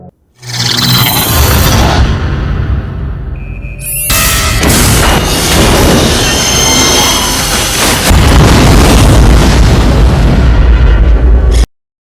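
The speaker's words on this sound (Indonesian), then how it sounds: "Lalu Robbie pun menyiapkan perangkap dan berhasil membakar Amy hingga meledak." A loud, sustained explosion of a robot in the film Red Planet roars and rumbles, with a sudden sharp blast partway through, crackling debris and a deep booming tail until it cuts off.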